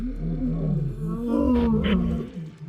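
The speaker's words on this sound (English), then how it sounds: "They were loud, they roared." Male lions roar in the wild in the Sabi Sand area, a deep, rumbling, drawn-out call that swells and then fades over a few seconds. They sound fairly close, and no one speaks.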